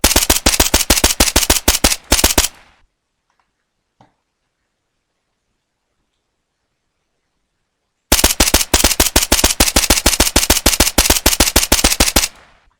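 A Vector submachine gun from a Minecraft gun mod fires two long rapid bursts of sharp, evenly spaced shots, loud and close. A stretch of near silence separates the bursts.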